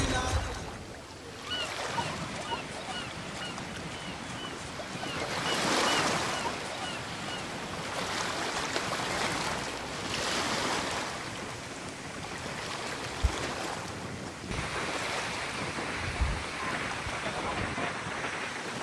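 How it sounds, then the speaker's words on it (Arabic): Waves roll and wash at Cleopatra's Bath beach in Marsa Matrouh, on Egypt's Mediterranean coast, in a steady broadband surf with gentle swells. Faint voices sit in the background. "احنا النهارده طبعا موجودين في شاطئ حمام كليوباترا"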